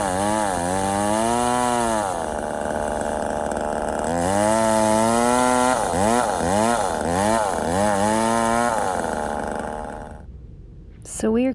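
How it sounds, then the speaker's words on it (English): A chainsaw cuts white oak hardwood firewood on an Appalachian homestead, loud and close, its engine repeatedly revving up and dropping back in rising and falling surges before cutting off near the end. "You always have to make sure that you have plenty of bar oil, or your chain will not go through the wood smoothly."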